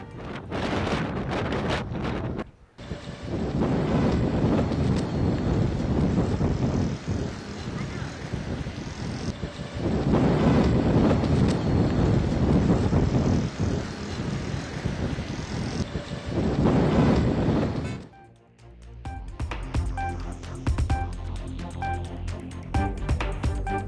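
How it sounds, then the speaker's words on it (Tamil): Strong gusting ground wind on Chennai streets and Marina beach, loud roaring buffets battering the microphone in long surges, broken by a brief lull, then a different quieter background near the end. "சென்னை அண்ணா சாலை, நுங்கம்பாக்கம், கோயம்பேடு உள்ளிட்ட பகுதிகளில் பயங்கர சத்தத்துடன் சுழன்றடித்த தரைக்காற்று"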